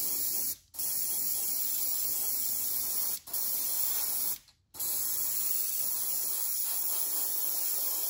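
White paint sprays onto a fishing crankbait from a compressor-fed sprayer, a loud continuous close hiss broken by two brief pauses.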